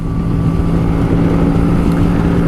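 A Honda Shadow 125 motorcycle about twenty years old rides along country roads, its steady low engine hum running under strong, constant wind rush at the microphone, loud and close.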